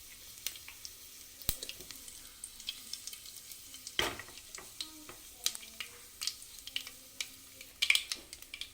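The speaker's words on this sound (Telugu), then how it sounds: "ఒక 1/2 టీ స్పూన్ జీలకర్ర, 1/2 టీ స్పూన్ అంతా ఆవాలు, వీటిని కాస్త వేగనివ్వాలి." Cumin and mustard seeds fry in hot oil for a cucumber and moong dal dish, a close, steady crackling sizzle broken by irregular pops and the scrape of stirring.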